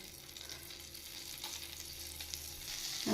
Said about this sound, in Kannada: ಒಂದು ಕಡಾಯಿಗೆ ಬಟರ್ ಹಾಕ್ಕೊಳ್ತಾ ಇದ್ದೀನಿ